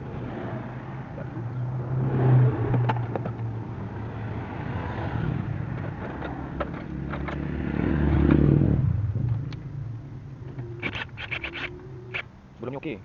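Manual Proton Waja MMC engine idling with the air-con on, a steady low engine hum with some clatter and a few clicks, close by, with voices talking over it.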